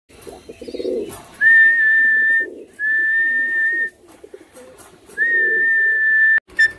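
A pair of domestic pigeons kept for sale, including a fulshira-type male, gives three long, steady whistle-like tones, loud and close, separated by short pauses over a low background murmur.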